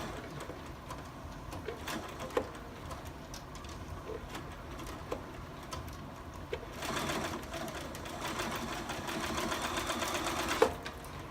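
A sewing machine stitches folded star coaster pieces flat, corner to corner, its motor humming quietly in a near, continuous run that grows louder and busier toward the end.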